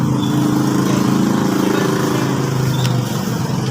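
A Raider J 115 motorcycle engine idling steadily up close after starting, a loud continuous buzzing putter with no break across the few seconds.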